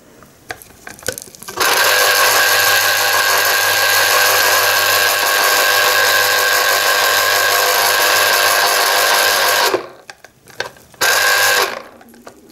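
A Delta DL-0234 electric citrus juicer runs with a loud, steady whirring motor hum for about eight seconds, then stops abruptly, followed by a brief second burst and some handling clatter.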